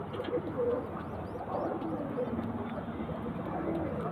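Old-generation pigeons, including a thirteen-year-old bird, coo softly in a few short low calls against a dense background hum, with no one speaking.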